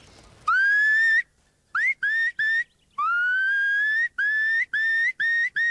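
A person whistles an imitation of a Eurasian curlew at an outdoor bird and nature festival, a series of clear rising, bubbling calls, one long phrase then several short repeated bursts, loud and close.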